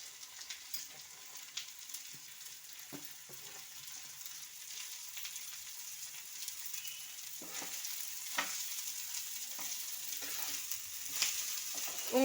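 Chopped broad beans (avarai) frying in a pan for an egg podimas, a steady soft sizzle with repeated scraping stir strokes, fairly quiet and close, no talking.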